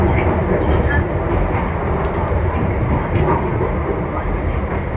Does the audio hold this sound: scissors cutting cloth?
no